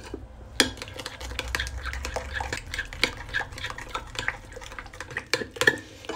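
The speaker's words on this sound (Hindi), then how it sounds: "अब मैं इसे अच्छे से मिक्स कर लूँगी" A spice marinade with red food colouring is stirred in a bowl for chicken, giving rapid clinking spoon taps and scraping against the bowl at an irregular, busy pace, close and fairly quiet.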